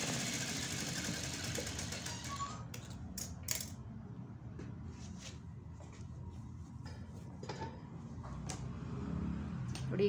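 A sewing machine stitching a folded quarter-inch hem on a blouse edge, a steady low mechanical whirr running throughout with small clicks and rattles on top.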